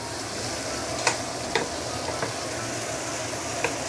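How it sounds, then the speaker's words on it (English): Chili sambal sautés in a pan with a steady, close sizzle, broken by a few sharp scrapes and taps from the spatula. "I'm just going to continue saute this for another 2-3 minutes"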